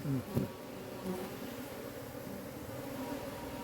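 Honeybees from a wild hive buzz in a dense, steady drone while being scooped into a box, the swarm close and continuous with no voices.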